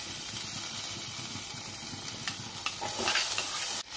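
Onions frying in oil in a pan for a tomato cashew curry give a steady, loud, close sizzle and hiss throughout, with faint stirring scrapes and a sharp knock near the end.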